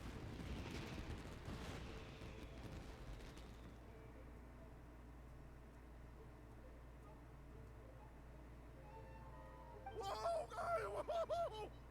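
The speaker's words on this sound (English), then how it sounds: "Yes, fireworks inside the house." Fireworks go off inside a house in the video game Genshin Impact: a cluster of sharp bursts in the first few seconds fades into a low hum, and bright tonal chimes flutter near the end.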